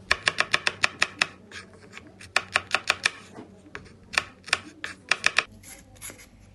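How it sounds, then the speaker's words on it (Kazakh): A knife chops garlic finely on a board in quick, crisp, evenly spaced taps that come in bursts with short pauses between them. "Маған осылай ыңғайлы болғандықтан осылай пышақпен майда етіп турап алдым."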